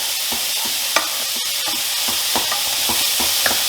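Onions sizzling in a hot frying pan while being stirred, a steady close hiss with scattered crackles and scraping stirs throughout.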